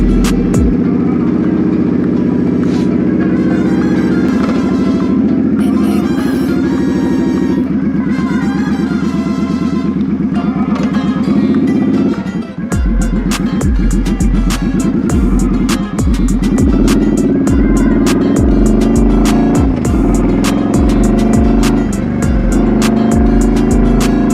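A motorcycle engine idles and runs loud and close, a dense steady rumble with a rough rhythmic throb and engine pitch shifting about midway as it is adjusted, no speech.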